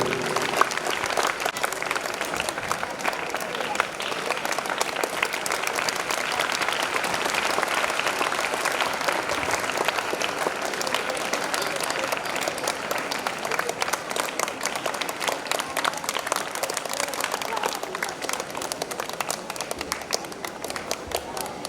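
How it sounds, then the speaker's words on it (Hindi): A Teacher's Day school audience keeps clapping in a long, steady wash of applause that hardly varies in level, with faint voices underneath. "ताली बजती ही रहनी चाहिए।"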